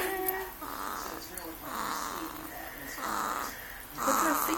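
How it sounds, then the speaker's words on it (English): Baby girl snoring close up, soft raspy breaths repeating about once a second in a steady rhythm. "She snores like her daddy."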